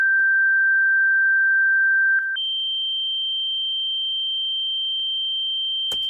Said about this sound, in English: I turned down the volume just so the sine wave doesn't sound too annoying